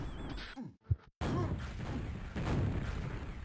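A rocket launcher fires during a QuakeWorld duel, giving a short boom among the game's other effects, with players or commentators talking quietly around it.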